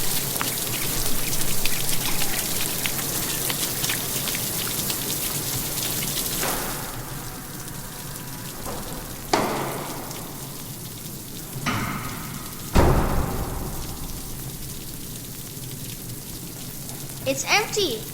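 Rain falls steadily in the bayou, a soft, continuous patter of drops with a few sharper splashes and knocks standing out now and then against the constant wash.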